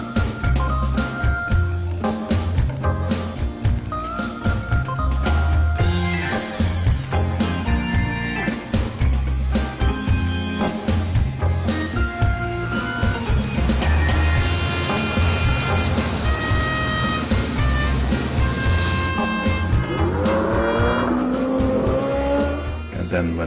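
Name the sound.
Porsche 906 race car six-cylinder engine on track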